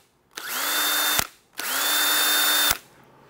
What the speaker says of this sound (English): we're going to drill about a dozen holes in the end of the jug, just in the cap